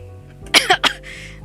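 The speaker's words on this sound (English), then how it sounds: "don't mind me coughing like throughout the whole stream" Three quick coughs from a person close to the microphone during a casual Necrobarista game stream, each a short harsh burst, the third followed by a softer breathy exhale over a low steady background hum.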